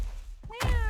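A cat in the video game Mewgenics gives a single short meow, close and clear, following a soft thump, with no talking around it.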